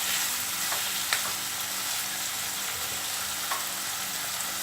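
Finely chopped tomatoes fry in a pan of chili paneer masala with a steady, close broadband sizzle, a few faint stirring clicks breaking through the even hiss.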